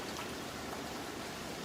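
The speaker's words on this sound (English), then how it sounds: "And now this is the balsamic vinegar" Balsamic vinegar poured over spinach and mushrooms sautéing in a pan gives a brief, steady hiss and trickle, fairly close and continuous, with no voices.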